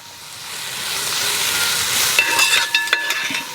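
Sliced onion and curry leaves hit hot oil in a pan for Kerala-style chicken mappas. The hiss swells into a loud, bright sizzle, broken near the end by a few sharp utensil clinks.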